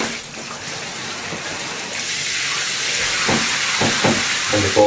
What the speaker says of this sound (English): I'm just going to whack the shower head on